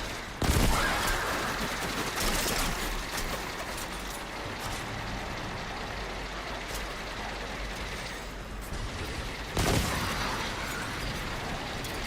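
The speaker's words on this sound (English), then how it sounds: "That's one of my favorite hand cannons." Hand cannon fire in the sci-fi shooter Destiny: sharp, loud single shots with long gaps between them, each cracking out over a dense, noisy battle background.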